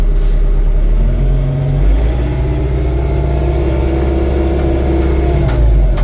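An LS MT242 cab tractor's diesel engine drones steadily close by, its revs shifting gradually as the foot pedal changes RPM, with no voices over it.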